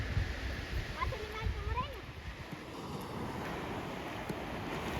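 Sea waves wash onto the shore as a steady, wind-blown roar of surf. The sound is continuous and moderately distant, with faint voices in the background.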